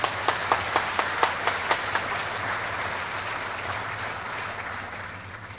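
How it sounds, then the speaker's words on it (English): Broad applause from an audience at a Social Business Day event in Bangladesh, a dense wash of many hands clapping with a few sharper claps at the start, steady and then slowly fading. "Let's give a big applause"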